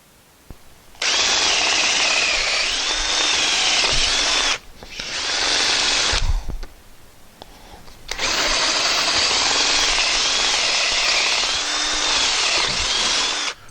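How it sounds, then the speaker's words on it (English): A power drill bores mounting holes for a Mr. Heater Big Maxx unit heater. It whines loudly and steadily in three long runs separated by short pauses, close up with no talking. "We're going to drill the holes."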